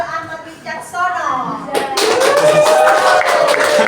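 Clapping from a classroom group as students are called forward to receive rewards, starting under a speaking voice and then rising into fuller, brighter clapping mixed with other voices and tonal sounds.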